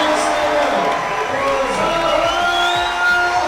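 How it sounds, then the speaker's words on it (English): Crowd applause and cheering at a fight night after a unanimous-decision bout, a steady wash of clapping and whoops filling the hall under an announcer's voice. "big round of applause for both of these young gentlemen"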